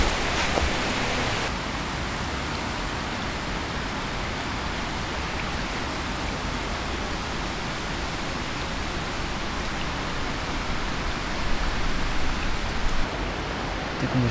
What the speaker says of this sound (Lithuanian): Tik nušniuoja lietus.